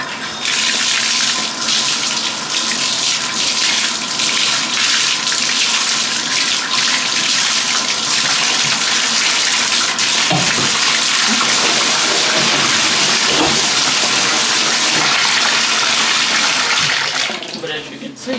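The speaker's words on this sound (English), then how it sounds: "as you can see, the tub is filling up and the drain is open" Water runs steadily from a faucet into a bathtub with the drain open, a loud continuous rushing splash that fills the whole stretch, with faint handling noises partway through.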